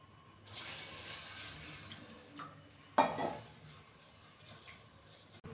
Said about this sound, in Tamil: அரிசி உள்ளே சேர்த்துக்கலாம். வறுத்து எடுத்துக்கலாம்.